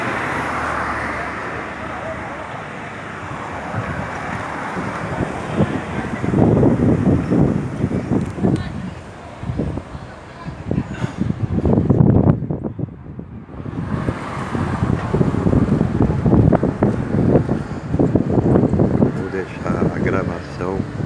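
Wind buffets a microphone outdoors in the Igreja Matriz square in Macaé, Brazil, a loud, continuous rumbling roar that swells and dips for about twenty seconds while a person talks over it.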